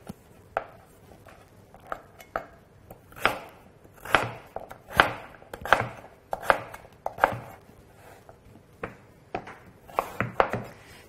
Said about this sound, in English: So I'm cutting them as uniformly as possible.